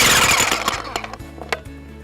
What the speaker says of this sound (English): Always check that your jackhammer's working.